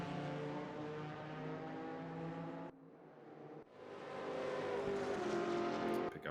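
Two Callaway Corvette race cars in a sim racing game at the Lausitzring, engines droning loudly with a steady harmonic whine, briefly dropping away before roaring back up as they pass.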